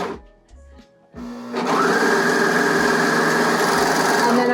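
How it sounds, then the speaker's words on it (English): A sewing machine runs a swimsuit seam off the fabric edge, starting with a few short stitching bursts and then settling into a steady, fast, close whirring that runs to the end. "And then I just sew off the edge."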